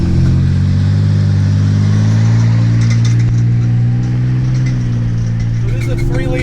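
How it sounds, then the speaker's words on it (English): A Ford Ranger's 3-liter V6 with a 4-speed automatic drones steadily inside the truck as it accelerates on tarmac, heard up close from the cab with a constant engine hum and no speech. "So this is a 3-liter V6."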